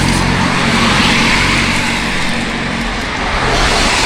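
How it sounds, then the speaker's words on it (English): Steady, loud roadway traffic on a busy route with cars rushing past close by, a continuous broadband roar with low engine rumble that stays dense throughout and carries no talk. "I hope the traffic noise isn't too overpowering"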